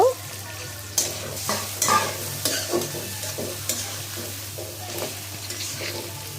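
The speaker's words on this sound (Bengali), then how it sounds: "এখন আমি দিয়ে দিচ্ছি চিংড়ি মাছটা ভাজা দিয়ে নিব" Prawns fry in a pan with green chillies, a steady close sizzle broken by repeated stirring scrapes and clatters of a spatula against the metal, loud and continuous with no talking.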